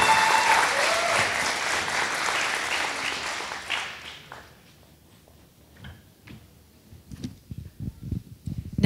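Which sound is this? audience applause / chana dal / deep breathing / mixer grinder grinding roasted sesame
audience applause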